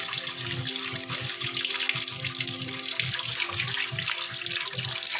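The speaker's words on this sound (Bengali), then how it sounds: "তো মাংসটা ধুয়ে নিই" Raw meat is washed under a running kitchen tap, with water gushing and splashing steadily and a rhythmic churning as the pieces are rinsed by hand.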